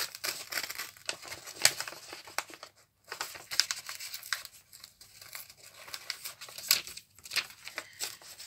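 Printed paper images being torn by hand, with a string of short ripping and crinkling bursts separated by brief pauses, close and fairly quiet with no talking.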